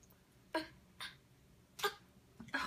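A child gives several short, dry coughs, spaced irregularly with brief pauses between them, close and fairly soft.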